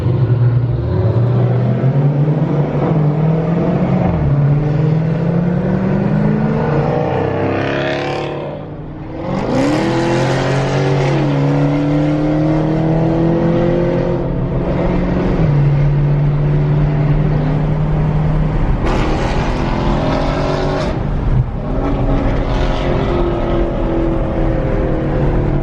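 Tuned Dodge Challenger Hellcat with resonators and catalytic converters removed for a straight-pipe exhaust, pulling hard on a freeway; loud rising engine roar through several gear changes with brief shift gaps, heard close and continuous.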